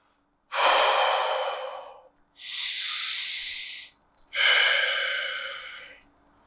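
Three long, deep, forceful breaths sound close up in a breathing exercise, each a loud airy rush lasting over a second, separated by brief quiet pauses.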